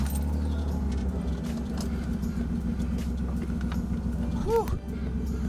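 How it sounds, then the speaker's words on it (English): A BMW E36 engine idles with a steady low rumble after starting, even and continuous, with a faint jingle of keys near the end. "We're gonna start her up real quick, let her warm up."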